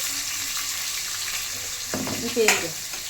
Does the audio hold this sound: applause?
no